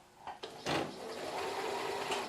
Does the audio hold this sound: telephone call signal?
no